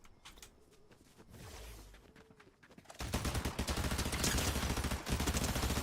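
An assault rifle fires in Fortnite in a dense, rapid stream that suddenly starts and stays loud and close until the end, following a quieter stretch with faint movement.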